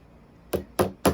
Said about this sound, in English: I'm going to tap it in the middle and then kind of work my way